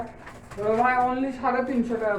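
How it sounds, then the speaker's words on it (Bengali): Low, throaty cooing of pigeons close by, two rolling calls in quick succession. "এই পাশে এক জোড়া কবুতর তারা নিয়ে আসছে"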